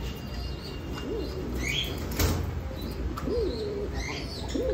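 Fancy pigeons of large size kept at a breeding farm, giving soft rising-and-falling coos spaced a second or two apart over a steady background hiss, with a brief flutter in between.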